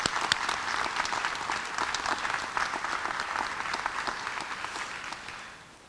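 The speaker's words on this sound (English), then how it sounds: "Please take a moment to give a round of applause for those out there today." An outdoor audience at a public safety press conference claps steadily in a dense wash of applause that holds for several seconds and then begins to fade toward the end, with no talking over it.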